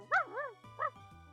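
A person imitates a dog barking with two short, wavering woofs made by voice, close and fairly quiet.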